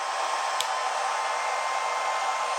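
Philips BHC017 1200-watt foldable hair dryer running on its high heat setting, a loud, close, steady rushing whir with an unchanging hum and a tiny click near the start, with no one speaking.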